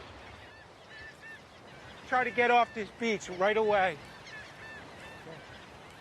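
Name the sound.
flock of shorebirds calling and taking off on a beach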